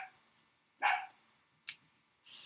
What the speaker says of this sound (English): You guys, can you hear the dog?